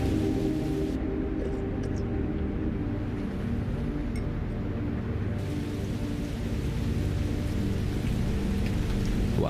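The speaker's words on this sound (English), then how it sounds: "There's perfectly good water falling from the sky." Steady, heavy rain pours down continuously, a dense close wash of falling water with a low rumble underneath, no voices.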